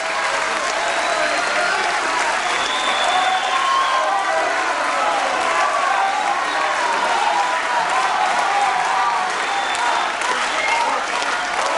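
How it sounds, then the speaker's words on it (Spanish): Warm, sustained applause from the audience at a national technical-professional education congress, dense and steady clapping filling the hall for about twelve seconds with a little crowd murmur underneath. "El cálido aplauso para cada uno de ellos."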